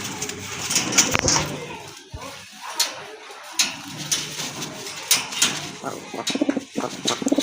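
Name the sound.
Indian Bombay pigeons cooing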